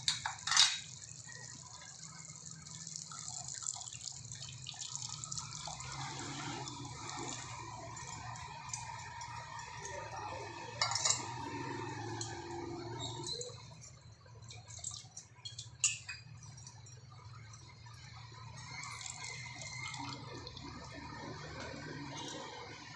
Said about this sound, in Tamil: இப்போ அடுத்து நான் புளி தண்ணி சேர்க்கலான்னு இருக்கேன்.